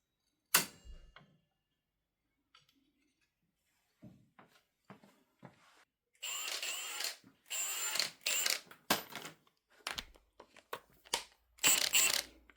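An air impact gun tightens the slipper clutch nut on a 1997 Suzuki GSXR 750 SRAD in a workshop, with a sharp initial burst, scattered clicks and ratcheting, then several loud rattling hammering bursts of uneven length.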